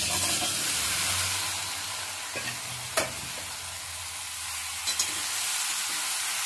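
Jujubes drop into hot oil in a wok with turmeric, giving a soft steady sizzle and frying hiss with a few light clinks of stirring, fairly quiet and with no talk.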